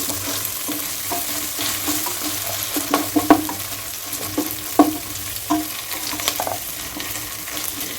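Ginger garlic paste fries in hot oil for a capsicum tomato curry, with a steady close sizzle and several sharper crackles and spatter bursts as it is stirred.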